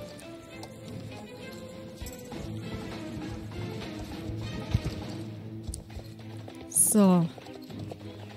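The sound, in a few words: horse galloping on a race track in a video game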